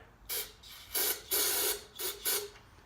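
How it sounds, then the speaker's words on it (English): Carb cleaner sprayed from an aerosol can into the carburetor throat of a small engine, four or five short close hissing bursts with brief gaps between them. "I'm basically going to spray a little bit of carb cleaner in it."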